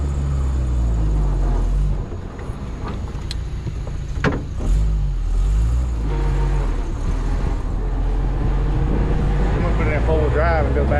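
A Jeep CJ5 drives up a road with a loud, close engine rumble that shifts and swells. Its revs climb in rising sweeps toward the end.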